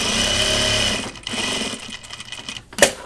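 A home sewing machine stitches a fabric case diagonally from corner to corner, a steady close mechanical whir that runs for about a second, pauses, then resumes in short bursts before a sharp click near the end.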